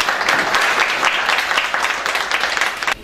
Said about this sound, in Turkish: Önce kendinizi bir alkışlayın, ben de sizi bir alkışlayayım.